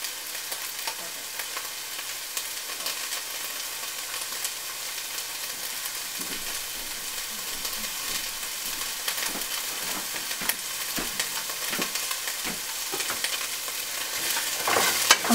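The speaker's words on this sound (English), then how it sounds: "so the peppers are cooking, and you're just going to cook these until they are tender" Bell peppers frying in a non-stick skillet for an egg white scramble. A steady, close sizzle runs throughout, broken by scraping and stirring, and it grows slightly busier toward the end. Nobody speaks.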